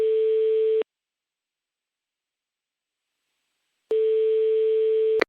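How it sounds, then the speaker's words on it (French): A telephone busy signal sounds on a call, one steady tone burst, then about three seconds of silence, then the same tone again. "on n'a pas pu avoir Jules Verne directement au téléphone"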